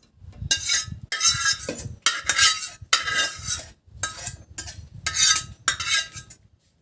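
Cooked egg noodles for a Hakka noodle recipe tipped into a strainer, with metal utensils clinking and scraping against pots in repeated short bursts, close and fairly loud, no talking.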